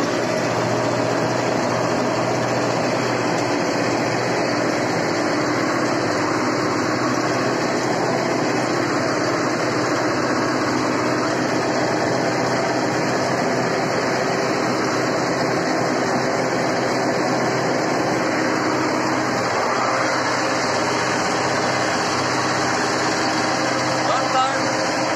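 An MTZ 82.1 tractor engine drones steadily as it pulls a PLN plough through wet, heavy garden soil, a continuous loud rumble from start to finish with someone talking over it.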